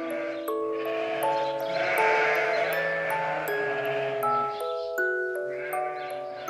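Lambs bleat loudly and almost continuously while being bottle-fed standing up, several overlapping high wavering cries close by with no talk.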